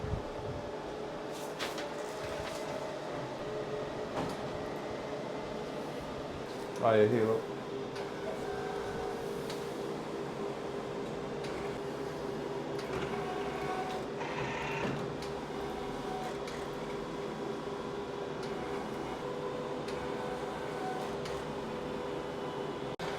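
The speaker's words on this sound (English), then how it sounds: "it should start printing on our large format printer now as well" A large format printer prints a vehicle wrap in a workshop, giving a steady mechanical hum and whir with a brief louder clunk partway through, while a person speaks briefly.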